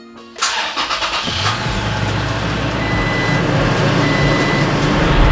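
A Toyota Tacoma pickup with a dead battery, started after a jump booster: a short stuttering crank, then the engine catches and settles into a steady, loud idle close by.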